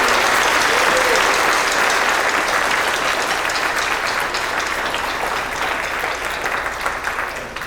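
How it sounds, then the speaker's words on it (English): Sustained, dense audience applause fills a school band concert hall in a spring concert, steady and loud throughout and tapering slightly toward the end. "If you would please give them a round of applause."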